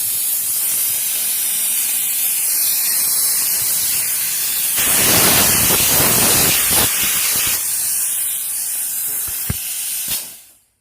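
Compressed air at 150 psi blasts from a spare shop air line on a hose system fed by a 2-gallon Husky compressor, a loud steady hiss for about ten seconds that swells louder midway, then cuts off abruptly.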